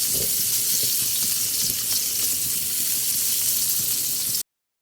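Garlic and onions sautéing in a hot pan, a loud steady broadband sizzle crackling continuously at close range until it cuts off abruptly near the end, no talking over it.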